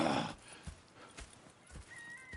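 Horses in Red Dead Redemption 2, a brief snort or whinny up front followed by sparse, soft hoof clops at an unhurried pace.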